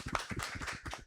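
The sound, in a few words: audience clapping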